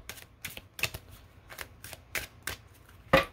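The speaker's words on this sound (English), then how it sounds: "Shuffle them up." Oracle cards shuffled by hand during a love reading, a run of crisp separate riffling bursts about every half second, with a sharper final snap near the end, close and fairly quiet with no talking.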